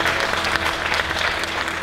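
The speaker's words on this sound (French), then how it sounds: "Les applaudissements." A brief burst of audience applause at a regional award ceremony, dense rapid clapping from a room full of people, steady and moderately loud for just under two seconds.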